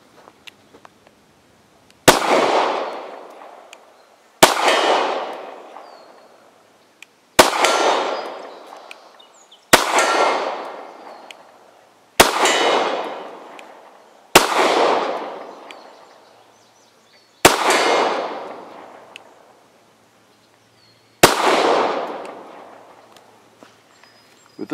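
Eight sharp, loud pistol shots from an H&K P7 PSP ring out one at a time, roughly two to three seconds apart, each with a bright crack and a lingering ringing decay indoors.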